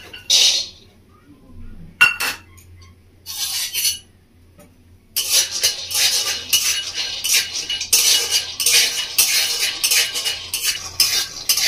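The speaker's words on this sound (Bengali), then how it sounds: "বাদামটাকে আমি ভেজে নেবো শুকনো খোলায়।" Peanuts dry-roasting in a kadai with no oil, stirred with a metal spoon: scraping and rattling bursts, sparse at first and then dense and continuous, close and fairly loud.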